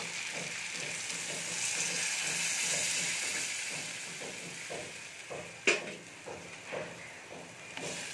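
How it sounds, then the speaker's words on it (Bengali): Potatoes frying in a pan, a steady close sizzle with rhythmic scraping of stirring, a sharper clank near the middle and a few lighter knocks toward the end. "আলুটা ভাজা ভাজা হয়ে গেছে"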